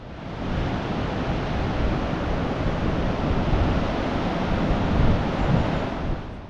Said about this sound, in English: The noise from the bridge can be quite deafening after heavy rain, and you can almost feel the sheer power of the water gushing underneath.